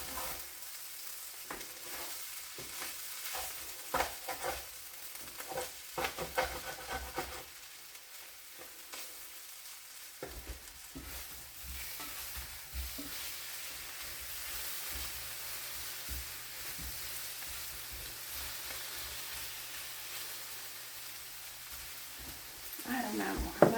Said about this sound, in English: any liquid that was in that sausage thing has evaporated and it's just getting brown, like the pan.